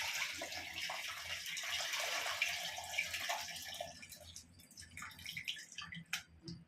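Tamarind extract is poured into a fish curry. A soft liquid splash runs for a few seconds, then gives way to scattered drips and light clatter.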